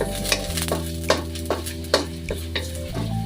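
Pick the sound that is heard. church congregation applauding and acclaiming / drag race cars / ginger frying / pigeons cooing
ginger frying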